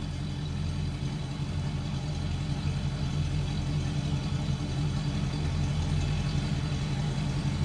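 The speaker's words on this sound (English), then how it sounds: "Little rumble coming out of that Rocket 350." Steady, low idling rumble from the Rocket 350 V8 in a 1971 Oldsmobile Cutlass Supreme convertible, heard up close as an even, unchanging throb with no talk over it.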